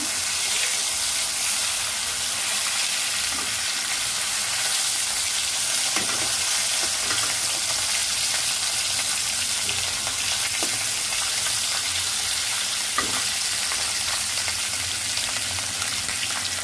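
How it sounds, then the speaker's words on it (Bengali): Rohu fish turned over and frying on its second side in oil, giving a continuous close sizzle with occasional sharper pops and crackles, steady in level and without speech. "এখন উল্টাই দেবো অপর সাইড ভাজার জন্য"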